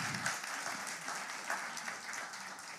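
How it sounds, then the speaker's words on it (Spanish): A church congregation claps to welcome a preacher, producing quiet, moderately dense applause with scattered sharper claps that continues evenly throughout. "Y vamos a recibir a nuestro hermano Ismael Reyes con aplausos"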